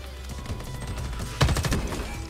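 A short burst of gunfire in Homefront: The Revolution breaks out over a low rumbling game background, several quick loud shots in a row before settling back.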